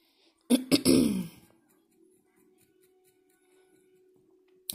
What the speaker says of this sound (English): if you hear me clearing my throat a lot